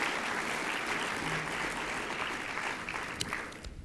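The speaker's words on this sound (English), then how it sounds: "A huge round of applause for all those folks that have joined us to be a part of this today." Sustained applause from an audience at a community college welcome event, a steady broadband clapping texture lasting several seconds before tapering off near the end.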